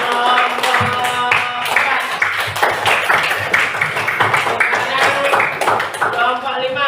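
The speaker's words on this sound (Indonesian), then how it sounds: "Ya, tepuk tangan untuk kelompok" A classroom of students claps for a student group, dense ragged clapping that runs the whole time, with voices talking over it.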